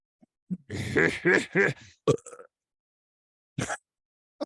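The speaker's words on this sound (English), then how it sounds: "Try it again, and I'll burp behind it." A person forces out a croaky, voiced burp with a few grunting bursts, followed by short gulps and clicks and a brief exhale after a pause.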